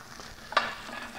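Artichoke hearts sizzle on a grill in a short steady hiss, with a brief sharper crackle near the middle and no talking.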